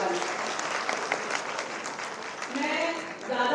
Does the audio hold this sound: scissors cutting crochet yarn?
no